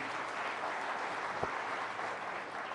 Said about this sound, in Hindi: जरा जोरदार तालियां हो जाएं प्लीज